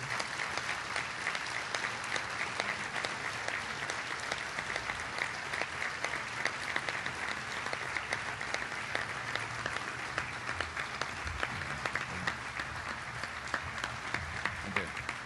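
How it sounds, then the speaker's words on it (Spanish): An audience at the inauguration of a medical-surgical unit in Juárez Centro claps steadily and densely for about fifteen seconds, a sustained burst of applause from many hands with a faint voice or two underneath. "para que les demos un aplauso fuerte"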